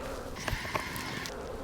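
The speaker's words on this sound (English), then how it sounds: "There's a few bees on this side." Honey bees buzz around an open hive during an inspection, a soft, steady drone with a few brief louder passes close by, and no talk.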